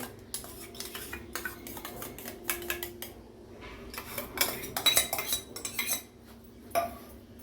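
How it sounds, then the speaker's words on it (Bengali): Semolina being mixed with salt and sour yogurt in a bowl for idli batter; irregular scraping and clinking of a spoon against the dish, close up, in short bursts with brief pauses and no talk. "সুজিটা ভালো মতো মেখে নিয়েছি।"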